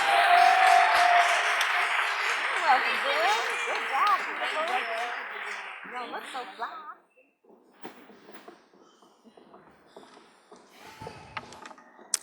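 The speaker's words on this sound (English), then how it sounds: "Please, let's give another round of applause for the Rossums." Applause from the audience at the 2016 Ray Crenshaw Awards ceremony, fairly loud at first, then fading out over about seven seconds before the room quiets to scattered small noises.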